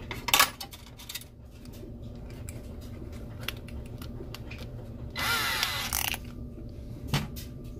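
A power drill with a quarter-inch dull bit struggles to bore into a part, giving a steady low grinding whir with a few sharp bursts and scraping squeals, close and fairly loud.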